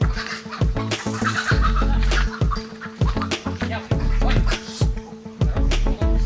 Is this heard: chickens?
yes